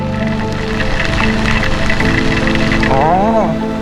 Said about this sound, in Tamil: கைஸ் சரியான மழையில் ரைட் பண்ணுறதே ஒரு தனி சுகம்.